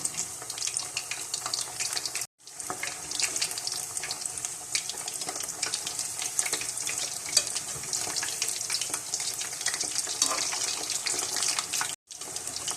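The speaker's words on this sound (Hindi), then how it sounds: "आप फिश को फ्राई करें।" Fish frying crisp in hot oil, with a dense, even hiss and crackle that runs throughout, broken by two brief silent cuts, and no talk.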